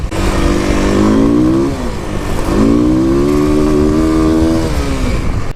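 A 2021 Kawasaki KLX300 dual-sport motorcycle run at full throttle in a top-speed test, its engine droning loud and close, rising in pitch, dipping briefly at a shift, then climbing and holding a steady high-revving whine.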